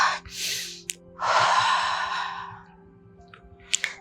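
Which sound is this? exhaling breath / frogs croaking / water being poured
exhaling breath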